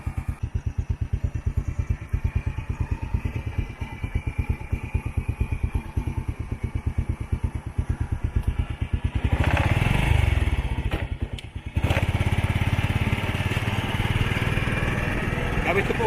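Honda Wave Alpha 100 motorcycle riding through the countryside in Bicol, its small engine putting out a steady rapid putter close by, with a gust of wind noise midway and a voice talking over it.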